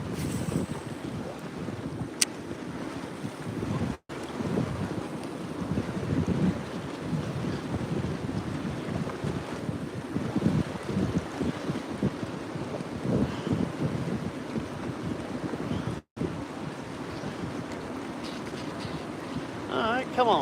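Wind buffets the microphone while water laps and splashes around a boat during catfish fishing, a loud, continuous rushing texture broken by two brief dropouts.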